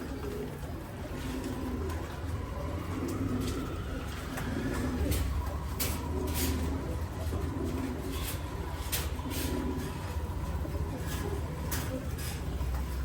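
Pigeons coo in repeated low throaty phrases inside a farm loft housing Afsan Bagha and colored breeds, several birds overlapping in a steady rhythm against a constant background hum.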